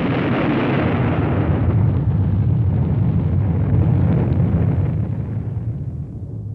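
A hydrogen bomb test explosion in the Marshall Islands roars as a sustained, deep, loud rumble that holds steady for several seconds before slowly fading at the end.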